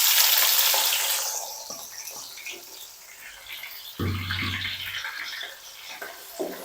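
Sliced onions sizzling in hot oil in a pan for aloo tahari, a steady hissing fry that swells briefly when stirred, heard alone without talk.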